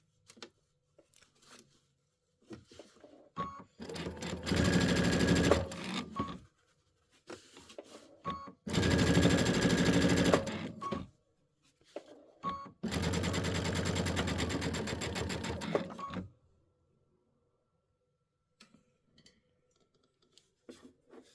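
A domestic sewing machine stitches in the ditch while finishing a Christmas-themed quilted piece: three sustained bursts of rapid, loud mechanical stitching, each a few seconds long, separated by pauses with faint handling noises and no talk.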